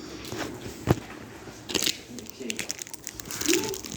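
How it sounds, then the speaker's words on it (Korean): Honey jelly candy is bitten and chewed, producing a few soft crunches and crinkly clicks scattered through the moment, close to the mic and fairly quiet, with faint voices in the background. "오늘은 꿀젤리를 먹어보도록 하겠습니다"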